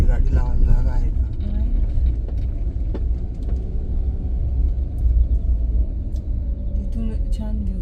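A car being driven and pulled in to park under a tree on a hill trip, its engine a steady close low rumble throughout while people talk over it.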